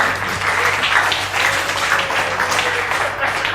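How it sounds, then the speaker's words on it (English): Audience at a speaking event giving a round of applause, steady dense clapping filling the room, loud and continuous for a few seconds with no voices over it. "Give a round of applause for Vishen."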